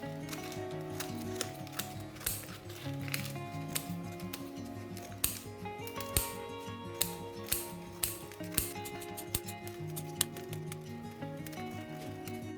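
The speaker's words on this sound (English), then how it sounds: "you need to cut the paper into small pieces" Scissors snip repeatedly at paper, cutting it into small pieces for paperclay, sharp cuts at an uneven rhythm, close up over soft background music.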